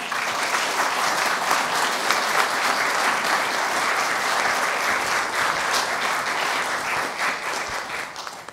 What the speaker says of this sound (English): Can we give Kirsten one more round of applause?